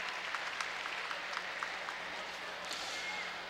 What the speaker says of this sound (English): Giving a round of applause to the first warm-up, called by Fred Strang,